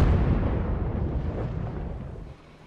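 An artillery strike explodes in the World of Tanks game, a loud, broad rumbling blast that decays over a couple of seconds before dropping off sharply.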